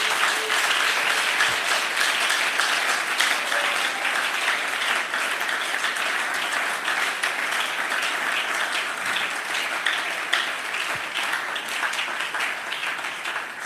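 A church congregation applauding and cheering to acclaim Jesus Christ: steady, dense clapping from a large crowd, loud and continuous throughout with voices mixed in.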